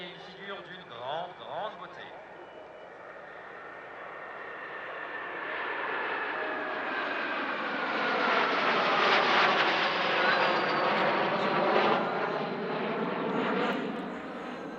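Fouga Magister jets of the Patrouille Tranchant display team flying at the Air Legend 2023 airshow, a whining engine drone that swells to a loud, sweeping roar and then eases, after a brief voice at the start.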